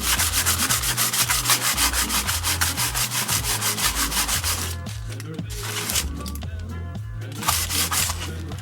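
Aluminum foil soaked in vinegar scrubs rusty chrome legs in fast, rhythmic rasping strokes, close and loud, pausing briefly before the rubbing resumes.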